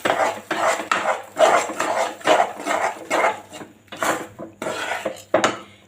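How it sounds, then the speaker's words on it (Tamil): A spoon stirs cashew kaju katli mixture with ghee in a pan, scraping and rasping steadily in close, repeated strokes, loud and continuous with no talk. "இப்போ நெய்யை ஆட் பண்ணி இப்போ நம்ம கிளறிட்டே இருக்க வேண்டியது."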